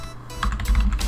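Keys tapped on a computer keyboard, a short burst of quick close clicks starting after a brief pause, with no talking.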